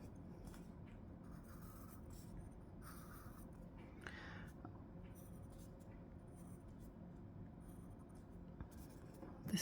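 Pencil drawing stacking tables on paper: faint, steady scratching strokes with a brief louder scrape near the middle, set against a low background hum.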